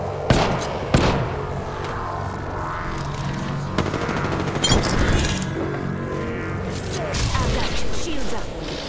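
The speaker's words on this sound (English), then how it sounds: "I am taking fire, friends." Apex Legends gameplay fills with dense gunfire, rapid bursts and automatic fire, sharp shot impacts and crashes, loud and continuous, blended with game sounds and a voice speaking over them.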